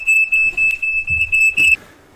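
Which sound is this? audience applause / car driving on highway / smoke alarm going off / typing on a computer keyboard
smoke alarm going off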